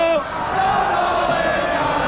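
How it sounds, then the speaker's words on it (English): A stadium crowd of Málaga football fans cheers after a heavy 5-0 home loss. The roar is loud and sustained, with a voice rising briefly near the start. "But they're still cheering because they have hope for next match"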